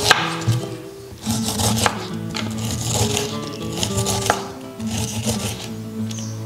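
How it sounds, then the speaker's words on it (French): A knife works through a pineapple on a wooden cutting board, peeling away the rind in a steady run of close scraping and chopping strokes. "Donc là, pareil, on va éplucher l'ananas."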